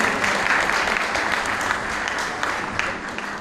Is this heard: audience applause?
yes